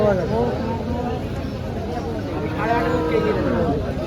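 A Jersey cow at a village cattle market gives drawn-out lowing moos, one early and another near the end, amid steady crowd noise and people talking nearby.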